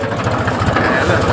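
A tractor engine runs at a steady idle close by, a low throbbing rumble that holds level for the whole moment.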